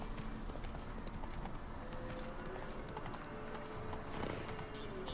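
Hooves of Roach, a horse galloping in The Witcher 3, thud in a steady rapid clip-clop rhythm over a dense game ambience, moderately loud and continuous throughout.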